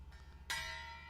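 A gong is struck once with a sharp metallic attack, then rings on with a long, steady shimmering tone that decays slowly, heard fairly faintly over a low background hum.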